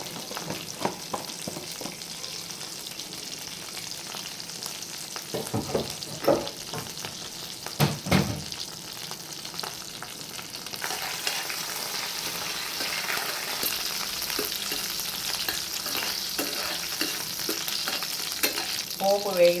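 Cumin and mustard seeds tempering in hot oil for a stuffed brinjal curry, a continuous soft sizzle with a few sharper crackles and pops partway through and a brighter fry toward the end.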